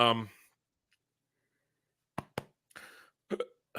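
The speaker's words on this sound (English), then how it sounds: "Excuse me, the hiccups." A man hiccups, with two sharp, quick hiccups after a short silence followed by a few more brief vocal catches, close to the microphone; his voice is also heard briefly at the start.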